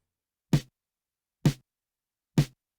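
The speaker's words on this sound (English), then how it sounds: "add in a detuned Lindrum LM1 snare" Three dry, tight hits from a detuned Linndrum LM1 sampled snare, played alone about a second apart with short decays and no talk.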